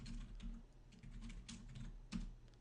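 Rapid keystrokes on a computer keyboard while entering router interface range commands, clicking in quick irregular bursts, close and steady over a low background hum.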